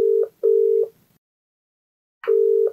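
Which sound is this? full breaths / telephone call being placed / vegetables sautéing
telephone call being placed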